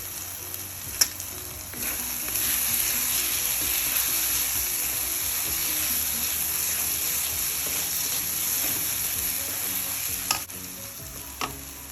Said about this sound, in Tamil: நல்லா ட்ரை ஆகிற அளவுக்கு வறுத்திடுங்க.